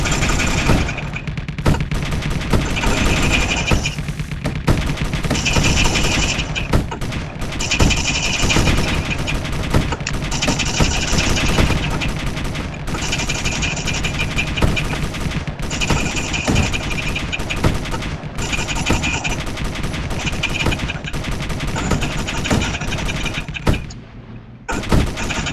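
Artillery fire in the game Space Engineers comes as rapid, repeated loud bursts and booms in a sustained barrage, with a brief drop near the end before the firing resumes.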